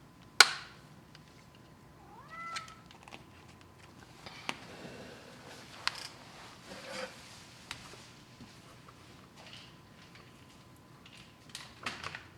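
A cat meows once, softly and up close, amid a quiet room with scattered clicks and taps, the short rising call standing alone without talk.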